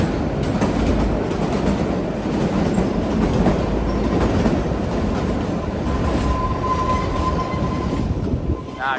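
A Kalka-Shimla toy train runs on its rails with a steady, close rumble and rhythmic wheel clatter that fills the whole stretch without letting up.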